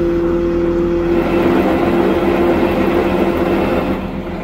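A Zetor tractor engine runs with a loud, steady, close droning rumble that holds constant and drops a little at the very end.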